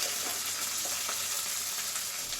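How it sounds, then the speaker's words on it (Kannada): Onion, green chilli and capsicum frying in an oil pan for uppittu, a steady dense sizzle close up with faint crackles, alone without talk. "ಚೆನ್ನಾಗಿ ಫ್ರೈ ಹಾಕೋಬೇಕು."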